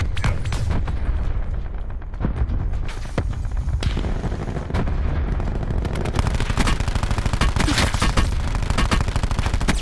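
Dense gunfire in Call of Duty, loud sustained bursts of automatic shots mixed with booming impacts, a near-continuous barrage with little pause and no talk over it.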